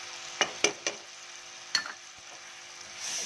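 Masala with dried fenugreek leaves sizzles in a pan while being stirred for lotus-root-free gourd kofta curry, with a few sharp scraping clacks of the spoon over a steady soft frying hiss, no voices.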